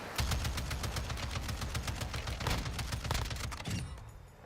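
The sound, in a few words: gunfire in a video game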